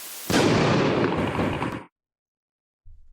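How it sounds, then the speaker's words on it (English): A loud movie explosion on the White House lawn bursts suddenly with a broad roar, rumbles on for about a second and a half, then cuts off into silence before a faint low thud. "That is another explosion that we just heard coming from the White House lawn."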